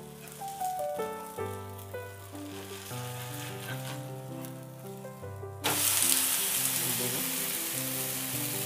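Ragi finger millet ghavan crepe cooking on a pan, a soft crackling sizzle that swells suddenly louder partway through, heard faintly under quiet background music.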